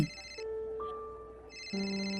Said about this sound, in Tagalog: Nagre-ring ang cellphone mo sa bulsa mo.